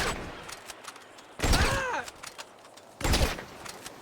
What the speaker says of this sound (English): Alright, we're gonna shoot you in the leg.